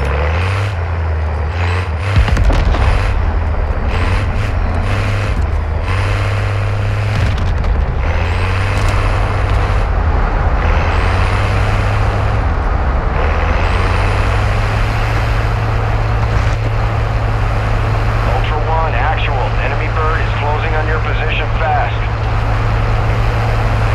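A vehicle in Call of Duty: Warzone 2.0 DMZ rumbles with a steady, loud engine drone throughout, hissing and shifting pitch early on, while a radio voice talks over it.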